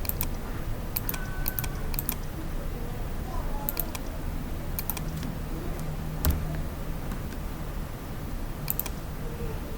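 A computer keyboard is tapped in short clusters of quick, light key clicks while a password is entered, over a steady background hum.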